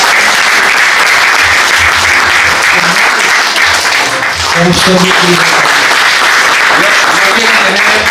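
Audience at a conference on loricariid fish breaks into loud, sustained applause, a dense clatter of many hands clapping, while someone speaks over it near the end.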